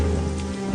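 Heavy rain drums steadily on a roof, a dense continuous hiss with a low rumble underneath and no pauses.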